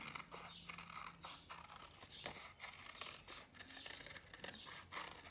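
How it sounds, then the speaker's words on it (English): Scissors snip through folded paper to cut a butterfly wing, a quiet run of close crisp snips and rustles with a steady rhythm and no one talking. "we will cut out our wing."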